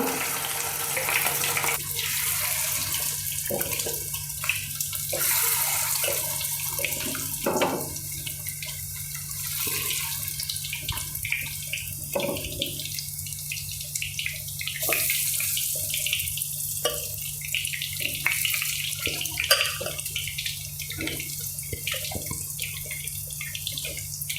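Chicken pieces frying in hot oil for chilli chicken in a home kitchen give a steady, close sizzling hiss with scattered crackles that runs unbroken for the whole stretch, with no talking.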